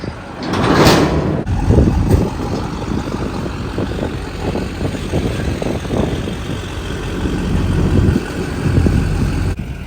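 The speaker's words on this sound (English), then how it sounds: "we just got home and we're gonna take it off the trailer." Engine rumble and clunking as a 20-year-old Duramax truck, freshly painted orange, is driven off a trailer at home, a steady low drone with scattered knocks throughout.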